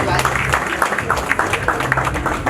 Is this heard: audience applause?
yes